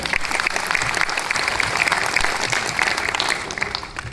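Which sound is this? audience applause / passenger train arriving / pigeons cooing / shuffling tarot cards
audience applause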